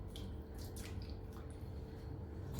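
Plain water poured into a pan while making a broccoli omelette, a soft splashing trickle with a few drips, faint and close, running unbroken with no talk.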